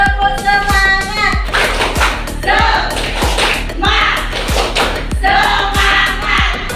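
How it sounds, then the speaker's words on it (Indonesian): A classroom claps a rhythmic spirit chant in unison, sharp repeated claps in patterned bursts with children's voices chanting along between the beats. "Sekali lagi ya, tepuk semangat!"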